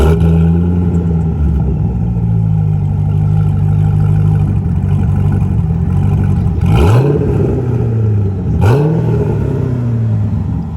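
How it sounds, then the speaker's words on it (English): A supercharged 2007 C6 Corvette engine runs at a steady, loud idle and then revs sharply twice, each rise and fall of the boosted engine rumbling up close. "start it now so you guys can hear some of the revs and how it sounds with the boost, because this thing sounds crazy"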